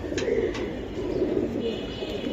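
Silver Giribaz pigeons cooing in a close, continuous low murmur, with a few brief brighter chirps over a steady background.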